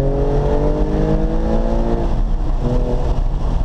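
Porsche 997 Carrera 2S on a race track accelerating hard out of a corner, a loud, continuous engine roar with rising harmonic tones heard from inside the car.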